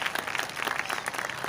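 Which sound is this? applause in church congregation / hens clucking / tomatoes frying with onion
applause in church congregation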